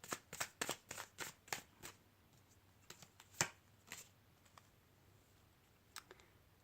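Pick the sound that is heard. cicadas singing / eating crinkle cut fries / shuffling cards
shuffling cards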